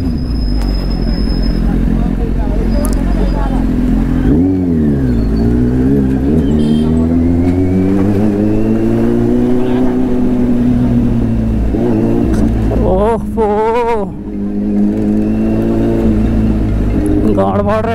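Kawasaki Z800 motorcycle engine revving hard, loud rising and falling throttle sweeps with sharp blips near the end over a constant idle drone.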